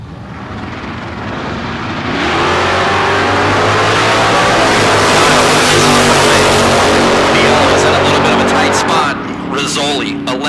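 A red 1967 Chevelle at a drag racing bracket event, a low idle swelling into a loud, sustained roaring launch that dominates, then fades slightly while a voice talks over it.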